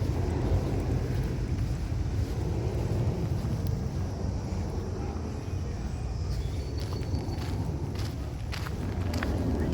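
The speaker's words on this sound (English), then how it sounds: "ASMR action happening here as I walk" Footsteps crunching along a path in the Queens Botanical Garden, a steady walking rhythm close to the microphone under continuous wind rumble and outdoor noise.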